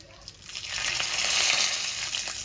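Mustard seeds spluttering in hot oil in a pan, a dense crackling sizzle with scattered sharp pops that swells after the first half second and stays close and steady.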